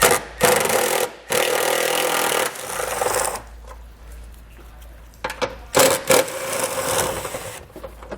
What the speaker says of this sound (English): We'll take our 10 millimeter socket and remove those